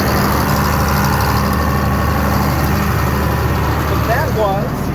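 A farm tractor's engine idles with a loud, steady, low rumble close by while someone talks over it.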